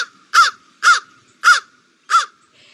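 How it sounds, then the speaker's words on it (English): A crow gives four loud, evenly spaced harsh caws, each a short raspy burst about half a second apart, close and alone against silence. "It's that standard caw that everybody knows well enough."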